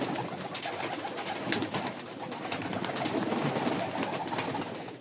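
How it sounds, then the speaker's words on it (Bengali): A loft of Giribaz and tumbler pigeons coos steadily in Rajshahi, a soft, continuous murmur of many birds close by with no voices. "অনেক কবুতর আছে মার্শাল্লাহ"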